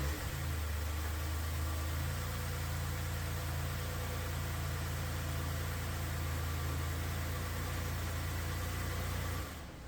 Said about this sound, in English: start the engine to check for any leaks